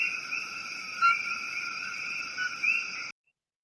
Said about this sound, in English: I played Los Coquis.